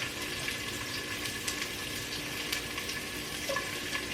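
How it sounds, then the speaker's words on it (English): Onions sauté in hot oil with a steady, close sizzle and crackle that holds at an even level throughout. A few faint pops rise above the constant frying hiss. "let me saute these onions"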